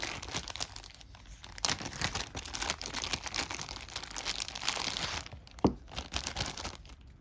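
Plastic baggies crinkle and rustle during a board game unboxing, a continuous close crackling with irregular crunches and one sharper snap of handling, no talk over it.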